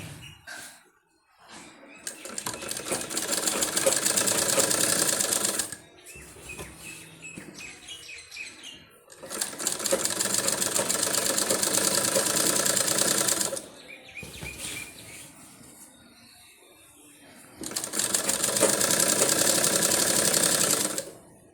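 Sewing machine stitching a kameez sleeve onto the shirt, running loud and close in three long bursts separated by quieter pauses, with faint bird chirps in the background.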